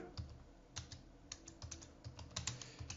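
Clicky keystrokes on a computer keyboard while Python code is typed, arriving in short uneven bursts and single taps, close and fairly quiet, with no voice over them.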